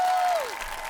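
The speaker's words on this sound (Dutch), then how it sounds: "een daverend applaus voor Karel Goedgebuur" Audience applause for a performer at a Dutch-language stage show, a brief steady wash of clapping with a fading tone at the start.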